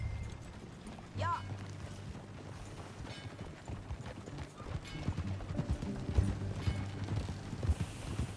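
Horse hooves clip-clop steadily during a ride in the video game Red Dead Redemption 2, a moderately quiet rhythmic trot with a brief neigh, under game ambience and occasional talk.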